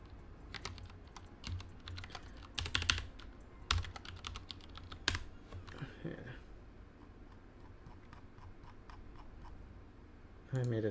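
Typing on a computer keyboard in quick bursts of close clicks and clacks with pauses between, with a voice briefly heard.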